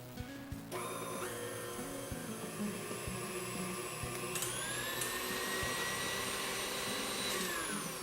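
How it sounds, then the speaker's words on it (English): An electric mixer with a whisk attachment whirs steadily for raw vegan cake batter, a loud continuous motor whine that kicks on after a few clicks and shifts pitch partway, running alone without talk. "Put your whisk back on and give it a whirl."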